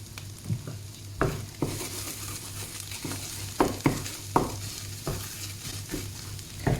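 Garlic fries in a pan while being stirred: a constant soft sizzle broken by a series of irregular utensil scrapes and knocks, close and moderately loud, with no one talking.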